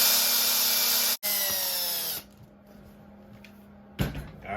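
Power drill driving screws into plastic RC axle parts, a whirring buzz that stops, spins briefly again, then cuts off, followed by quieter handling and a final short burst.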